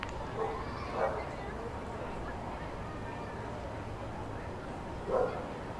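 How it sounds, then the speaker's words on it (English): Dogs barking at a minor league ballpark during a baseball game, a few distant yips and barks spaced out against steady crowd and stadium noise. "If you hear the barking that might have been picked up on that mic"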